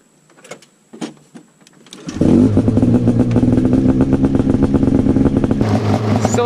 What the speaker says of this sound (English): So we got the sled fired up here. Sounds pretty good. It's got a can on it